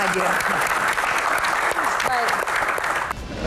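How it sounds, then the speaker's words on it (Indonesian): A studio audience at an Indonesian Q&A talk show breaks into loud, sustained applause, with a voice talking over the clapping. "Tepuk tangan untuk Om"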